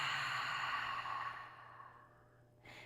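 A long, deep breath is let out through the mouth during a yoga stretch cool-down. The airy exhale is close and starts loud, then slowly fades to near silence, with a faint new breath at the very end.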